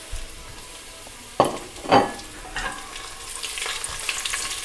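Spices for biryani fry in hot oil, a soft continuous sizzle with two sharper crackling bursts as more ingredients hit the pan, and light stirring clatter toward the end.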